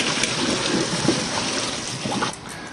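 Cold tap water runs or pours steadily in a home kitchen during cooking, a close, continuous splashing rush with no talking over it.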